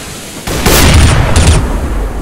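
A grenade goes off in a competitive shooter game: one loud, booming blast that swells and holds for about a second before fading, with no talk over it.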